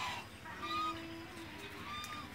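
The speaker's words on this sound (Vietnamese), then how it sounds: "Để các bạn xem các ngỗng này," Geese in a simple rural goose pen at dusk give faint, scattered honks and clucking calls over a dense background of outdoor noise, fairly distant and low in level.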